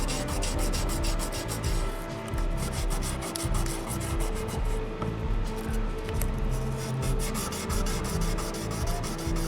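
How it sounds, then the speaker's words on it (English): Fine 1000 grit sandpaper rubbed back and forth over the frets of an electric guitar, a steady close scratchy rasping in quick repeated strokes that runs continuously with no talk. "Have a little bit of 1000 grit sandpaper. We're just going to clean the top layer of dirt off these things."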